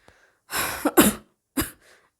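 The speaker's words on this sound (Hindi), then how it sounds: "तुम्हारे खांसी हो रही है, पानी पियो पानी पियो" A few close, dry coughs in quick succession, followed by a softer breath, with no talk.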